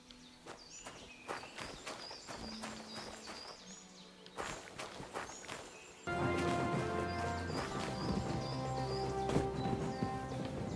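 Horse hooves walking in the video game Kingdom Come Deliverance II, a steady clip-clop of footfalls under game ambience, with a louder music or ambient bed swelling in partway through; no talking.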